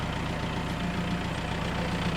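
A tractor engine idles steadily with a constant low, even rumble that stays loud and unchanging throughout, no voices over it.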